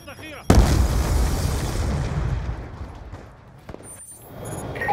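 A sticky grenade detonates in Call of Duty: Black Ops 2 multiplayer with a sudden loud boom, its heavy low rumble decaying over several seconds beneath faint game chatter.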